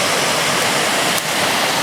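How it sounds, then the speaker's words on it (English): A waterfall on the Jacks River roars as a loud, dense, unbroken rush of water close at hand. "there's that waterfall we had to go around"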